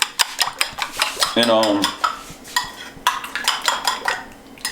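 Breakfast ingredients seasoned with black pepper are mixed in a bowl with a utensil, making a rapid series of close clinks and scrapes against the dish, with a brief voice in the middle.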